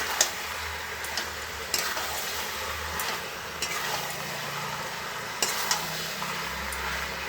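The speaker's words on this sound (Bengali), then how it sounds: "এঁচোড়টাকে ভালো করে কষে নিচ্ছি।" Jackfruit for a Bengali shukto being stir-fried in a pan with a little sugar, giving a steady low sizzle broken by scattered scraping clicks of a spatula, with no talking.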